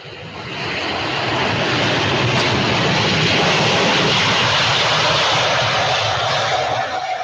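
A380 airliner landing on a runway, a loud continuous broadband engine roar that swells in within the first second and holds steady close by, with no talk over it.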